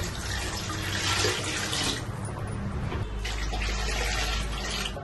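Water pours steadily into a cooking pot for rice for a few seconds, a continuous splashing rush at close range with no voices.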